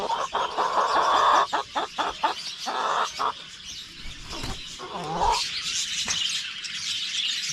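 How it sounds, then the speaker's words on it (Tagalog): Jersey Giant chickens cluck and squawk nearby in a rapid run of short calls, then quieter scattered clucks and chirps over faint background noise. "Ito po yung babae natin dyan at saka 3 yung lalaki sa ating mga manok na Jersey Giant"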